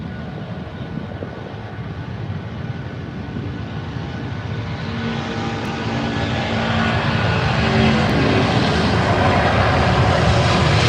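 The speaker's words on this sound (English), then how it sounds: "God, those engines are loud, aren't they?" Loud jet engines of a passing airliner at Heathrow airport, a broad continuous roar that swells steadily over about eleven seconds as the aircraft nears, with no talking.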